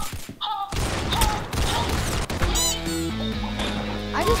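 Gunfire in the Roblox game Arsenal: a dense burst of rapid shots followed by sharp impact and effect sounds, fairly loud and busy throughout the short stretch.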